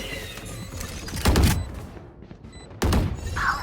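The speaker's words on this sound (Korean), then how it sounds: "수류탄!" A grenade explodes in the video game Valorant: two sharp, booming blasts about a second and a half apart, each with a short rumbling tail, over faint game ambience.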